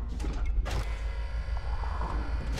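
A heavy mechanical door in the Space Hulk: Deathwing video game grinds shut with a loud, continuous creaking and clanking over a deep rumble, lasting more than two seconds with no talk.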